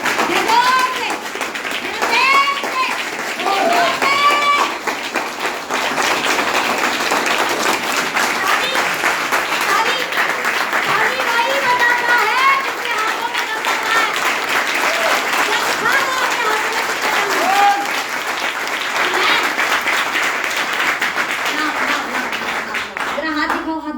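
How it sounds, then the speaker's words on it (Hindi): Sustained audience applause fills a hall during a networking success meeting, dense steady clapping lasting throughout, with children's voices and crowd chatter mixed in underneath. "शानदार ताली बजाओ और नींद से जाग जाओ"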